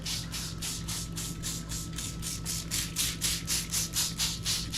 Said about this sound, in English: I'm gonna spray it down with this apple juice, apple cider vinegar.